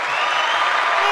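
A short burst of dense, steady clapping from a group of people, bright and even throughout with no pauses.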